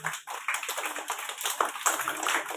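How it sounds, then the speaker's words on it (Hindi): An audience applauds at a chess-in-schools programme launch at a government primary school, a dense patter of many hands clapping close by at steady strength. "एक बार जोरदार तालियां हो जाए।"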